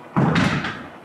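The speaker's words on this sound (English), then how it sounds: "and then what you heard was me shutting this door." A door in an old mansion is pushed shut with a single loud, close thud and a brief fading rumble afterward.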